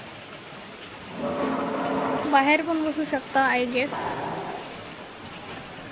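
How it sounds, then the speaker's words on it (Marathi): A steady, heavy downpour hisses in the background at Matheran during a family trip, broad and constant, while people talk briefly over it. "खूप पाऊस सुरू आहे."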